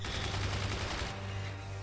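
Sustained rapid machine-gun fire from the video game Forts, a dense continuous rattle of overlapping shots that stays loud and steady, thinning slightly toward the end.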